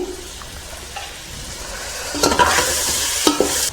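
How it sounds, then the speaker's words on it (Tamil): Tomatoes with salt sautéing for mutton paya biryani, a steady sizzle in the pan broken by louder stirring scrapes near the end, close and without speech. "தக்காளி நல்லா வதங்கிடுச்சு ஃப்ரெண்ட்ஸ்"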